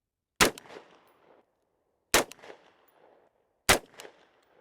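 Three sharp gunshots from a short AR-15 rifle fitted with a suppressor, fired one by one about every one and a half seconds, each a loud crack followed by a brief rolling echo.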